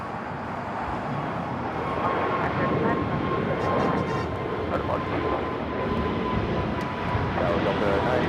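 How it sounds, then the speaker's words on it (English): A Breeze Airways Airbus A220-300 takes off at LAX with a broad, sustained engine roar. The noise stays loud and steady throughout, with faint voices underneath. "This is Breeze Airways 535 taking off to Richmond on the A220-300"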